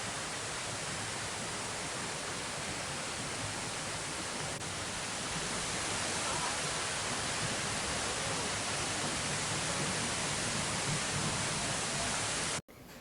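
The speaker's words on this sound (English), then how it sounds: "I made it down the stairs to the second waterfall" A waterfall on Jeju island in spring, reached by stairs, gives a steady, dense, broadband roar of falling water that stays constant throughout and cuts off abruptly at the end.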